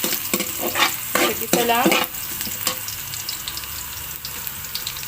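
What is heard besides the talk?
garlic sizzling and being stirred in frying pan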